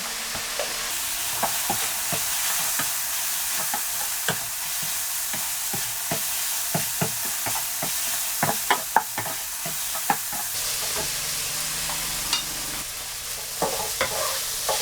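Chicken breast and flowering chives stir-fried in a pan: a steady high sizzle with repeated sharp scrapes and clicks of the spatula against the pan, close and fairly loud, no talking.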